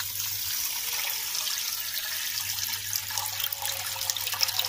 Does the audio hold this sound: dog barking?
no